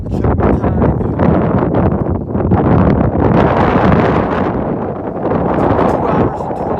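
Strong wind buffeting the microphone high on the Bigelow Mountains along the Appalachian Trail, a loud, continuous roaring rush with gusty swells.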